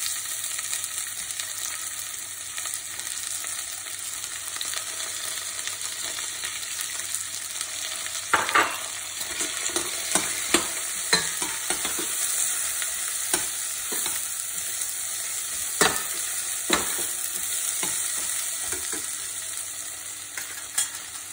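A medium onion frying in a pan for vegetable biriyani, with a steady loud sizzle throughout and scattered stirring scrapes and clinks from about a third of the way in.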